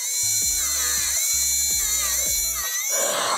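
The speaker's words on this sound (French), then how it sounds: "Moi, j'aime bien le faire à la ponceuse." An electric nail drill fitted with an emery bit sands a fingernail, a loud, steady high-pitched whine with rhythmic low buzzing pulses as the bit presses and lifts, heard up close.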